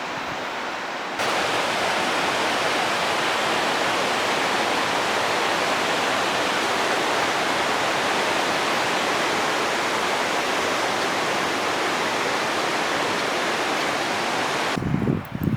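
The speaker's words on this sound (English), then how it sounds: "The beautiful ice cold, crystal clear water rushing down the river." Ice-cold, clear river water rushes steadily near Downieville, California, a dense, loud, unbroken roar with no voices, cutting off abruptly near the end.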